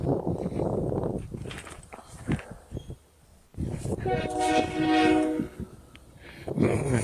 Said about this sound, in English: sounds like the train's coming,